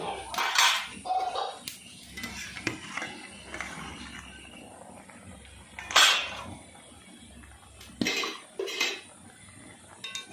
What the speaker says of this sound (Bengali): এবারে ঢাকনাটা খুলে নিচ্ছি